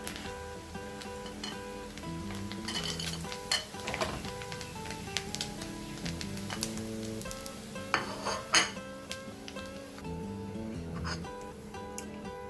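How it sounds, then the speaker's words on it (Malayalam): Dried anchovies frying in oil and being scooped out: a steady, quiet sizzle runs underneath while a spoon stirs and scrapes, with occasional metallic clinks against the pan. "അപ്പോൾ ഉണക്കമീൻ അത്യാവശ്യത്തിന് ഫ്രൈ ആയിട്ടുണ്ട്. ഇത് കോരി എടുക്കാം, കോരി മാറ്റാം."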